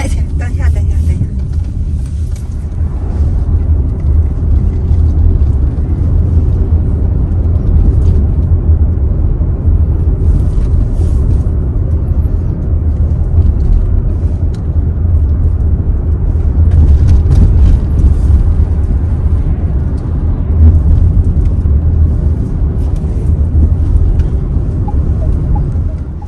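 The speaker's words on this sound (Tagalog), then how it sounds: "Medyo traffic dito sa daanan papuntang Airport Kapsat." Road traffic on the way to the airport, heard as a steady, loud low rumble of cars and engines passing from inside a vehicle, with occasional brief voices over it.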